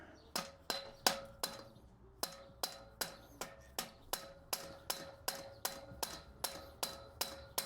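Dead blow hammer striking metal engine parts on a 1974 VW Beetle engine, with about twenty sharp ringing blows in a steady rhythm. It is close and fairly loud with no talking.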